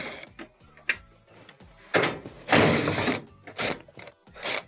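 Screws are worked out of the top of a washing machine console with a tool, heard as close, uneven ratcheting clicks and mechanical rattles with a few louder bursts of scraping and handling noise.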